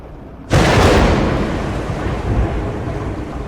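A heavy thunderstorm breaks with a sudden loud thunderclap after a half-second of rain hiss, then a long broad roar of pouring rain and rolling thunder fills the rest, with no talking.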